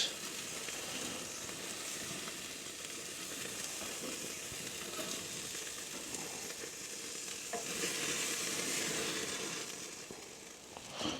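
Burgers sizzle and fry over an open fire on an allotment at night, with a steady close hiss and crackle that holds throughout and swells briefly near the end.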